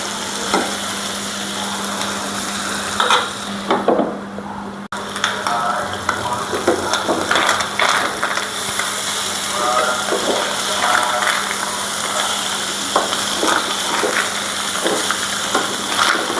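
Fish sizzles in a frying pan with onion and garlic, a loud, continuous crackle broken by stirring clatter and occasional utensil knocks, with no talk.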